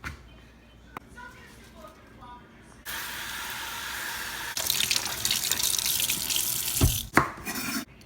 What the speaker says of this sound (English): First we're going to wash the veggies.